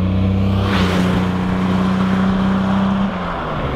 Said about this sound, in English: we drove a Jaguar E-Type Roadster 1964